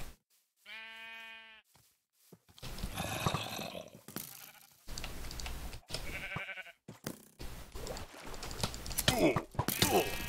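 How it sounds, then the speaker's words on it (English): One short, clear sheep bleat from the Minecraft video game sounds first, followed by steady overlapping game noise and clicking, with people talking throughout. "Is that a black sheep?"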